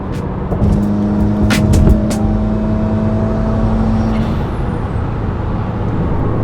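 A muscle car engine revs and roars nearby, rising then holding a steady drone as the vehicle moves along the road.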